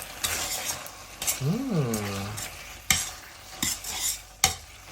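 Pasta with shredded basil is stirred in a pan, with crisp spoon scrapes and several sharp utensil clacks against the pan; a brief vocal-like hum sounds midway.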